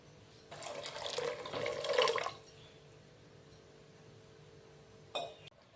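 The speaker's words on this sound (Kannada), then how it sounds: "ಇನ್ನೊಂದು ಸ್ವಲ್ಪ ನೀರು ಹಾಕೊಂಡ್ರಿ." Water is poured into a pan of churumuri masala with potato and peas, making a quiet splashing pour of about two seconds, followed by a soft metallic clink.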